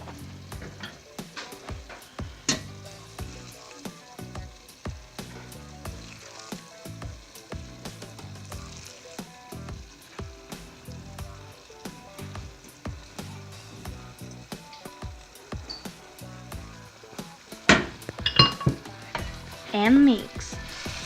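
Ground beef frying in a home kitchen pan, stirred over and over: a steady sizzle runs throughout with repeated scraping and clinking stirs, a few louder bursts near the end.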